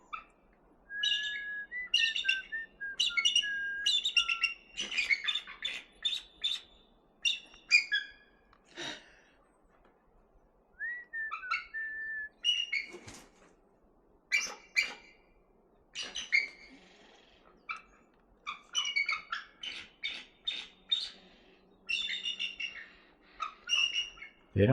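Large, active birds of prey call back and forth in quarrelsome bursts of sharp chirps, whistles and squeals, irregular and moderately close, with quiet gaps between flurries.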